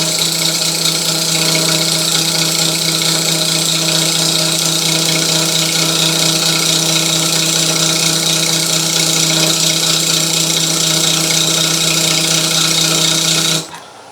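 A wood lathe spins a wooden platter while a turning tool cuts it. The motor hums steadily with a constant tonal drone and cutting noise for most of the clip, then it drops off abruptly near the end.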